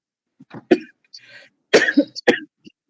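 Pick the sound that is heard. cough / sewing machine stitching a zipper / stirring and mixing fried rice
cough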